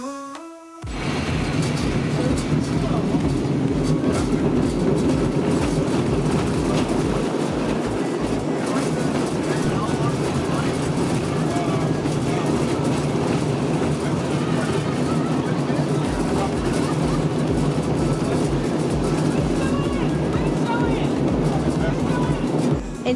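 A San Francisco cable car at its terminus turntable gives a steady rumbling rattle with rhythmic clicking and clatter of wheels and mechanism, continuous and fairly loud, with voices now and then.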